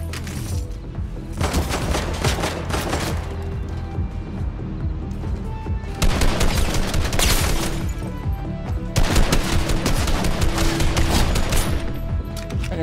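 Gunfire in Fortnite, repeated bursts of rapid shots and machine-gun fire clustered in three heavy volleys over a busy, continuous battle din, with no speech.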